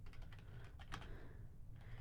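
Quiet, fast tapping on a computer keyboard sounds in short irregular bursts, faint and close over a low steady background hum.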